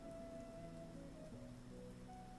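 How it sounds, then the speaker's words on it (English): Soft, steady rain patter mixed into quiet background music, with sustained melodic tones running over a constant hiss of falling drops. "some rain sounds."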